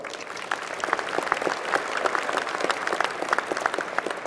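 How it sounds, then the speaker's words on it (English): Sustained applause from a crowd at a winter university engineering commencement ceremony, dense steady clapping that fills the room for several seconds without letting up. "Give her a round of applause."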